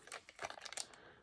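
Scissors cutting paper for an art journal, a quick run of soft crisp snips and crinkles, close and faint.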